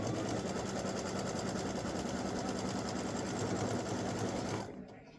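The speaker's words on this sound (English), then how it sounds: "the next color stop is going to stitch the cut line to make the opening" An embroidery machine stitches the cut line of an applique piece, a steady loud rapid mechanical chatter running without pause for nearly five seconds before stopping abruptly.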